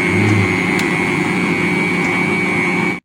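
A mixer grinder whirs loudly and steadily while blending eggs with powdered sugar, a close, constant motor drone with a high whine. It cuts off abruptly at the end.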